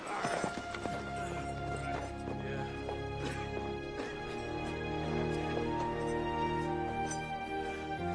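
Hooves clip-clop steadily as horses move off in a Western drama scene, a continuous rhythmic patter under a dense layer of music and background sound.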